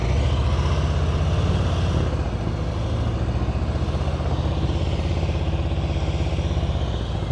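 A motorcycle engine revs up and holds a steady rumbling drone throughout an advanced slow-speed riding practice session in Florida, close and continuous with no talk.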